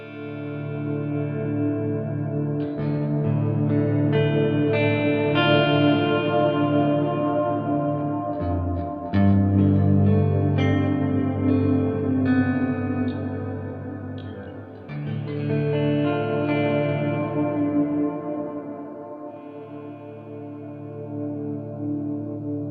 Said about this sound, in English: It's reverse delay into octave down reverb.